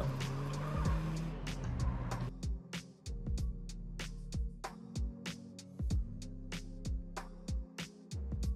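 A van is driven during a GTA San Andreas DYOM mission: a steady engine drone runs under a rapid, irregular string of sharp clicks and knocks, with brief tire scrapes in between. No one speaks.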